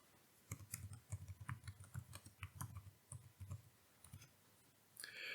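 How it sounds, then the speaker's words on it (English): Quick, uneven bursts of keystrokes clatter on a nearby keyboard, with short pauses between runs and a louder rustle near the end; no talking. "you're going to hear more of me typing than normally"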